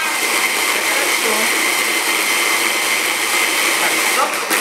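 A kitchen blender whirs continuously while blending fruit with kiwi and maple syrup to make fruit ice, a loud and steady motor roar from close by that lasts the whole stretch.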